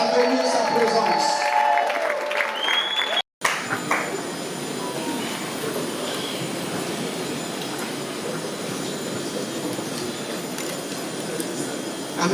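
Applause and cheering from a conference audience at the Hotel Rotana greet matriarch Zoé Amoni as she enters: a dense, steady roar of clapping that surges in after a short gap and fills the hall.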